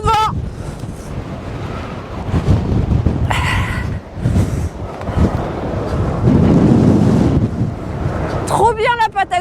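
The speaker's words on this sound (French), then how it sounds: "il y a trop de vent" Strong Patagonian wind buffets the microphone in uneven, roaring gusts with deep rumbling surges, and brief voice sounds break through now and then.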